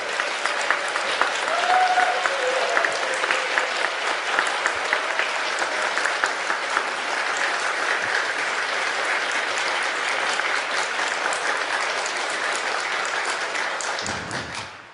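An audience claps steadily to welcome a journalist guest at a Korean broadcasting strike event. The dense, even applause fills about fifteen seconds alone, then cuts off abruptly at the end.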